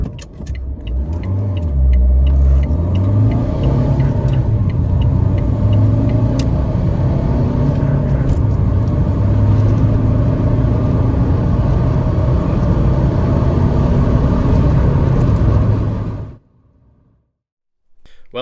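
Ford Fiesta Zetec S accelerating hard from 0 to 60, a loud close engine roar rising through the gears with brief dips at shifts for about sixteen seconds, then cutting off.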